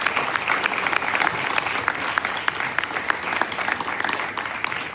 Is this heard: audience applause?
yes